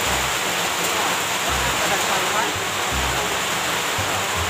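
Strong, steady rush of flowing water, loud and continuous like a stream or runoff pouring near a bamboo-roofed nipa hut, with voices talking over it.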